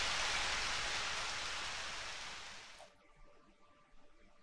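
Rain in the farming video game Harvest Moon for Girl falls as a steady hiss that cuts off abruptly partway through, leaving faint quiet game sounds.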